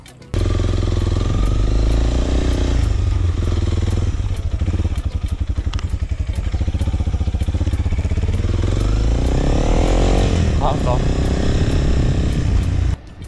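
A motorcycle cruises along a road toward Mae Hong Son in northern Thailand, its engine droning loud and steady close by, with a shift in pitch midway and wind rumble throughout.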